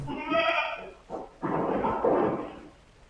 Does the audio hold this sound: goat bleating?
yes